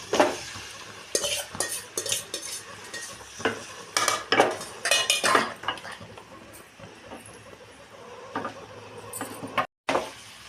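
Marinated chicken goes into a pan and is stirred, with a spoon clattering and scraping against the metal in uneven bursts over a soft sizzle. No one speaks.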